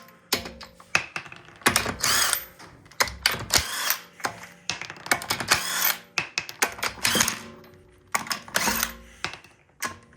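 A power tool rattles in quick, uneven bursts while a wheel is taken off a cheap Honda that won't start. Clanks and tool handling sounds are mixed in, close and fairly clear.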